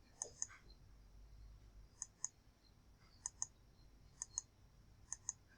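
A computer mouse clicking through slideshow slides, crisp paired clicks recurring about every second, close but quiet against a near-silent room.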